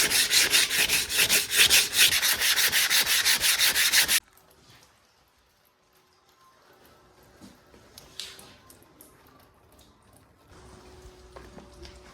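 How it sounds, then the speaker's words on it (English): A dense cast concrete bench is sanded to strip the cement cream and expose the sand grains. A loud, rhythmic rasping rub lasts about four seconds, then stops, leaving quiet handling noises. "I'll just expose the sand grains by taking the cement cream off."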